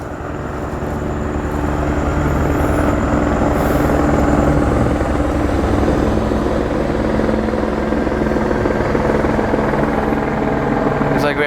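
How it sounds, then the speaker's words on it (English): A police helicopter passes overhead, its loud steady rotor thrum and engine drone filling the whole stretch with little change in level. "Looks like we have a police helicopter above me."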